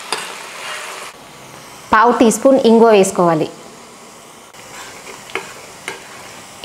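Mustard and cumin seeds, dried red chillies and garlic sizzle in hot oil for the tempering of an amla pickle, a steady close crackle throughout, with a voice speaking briefly in the middle.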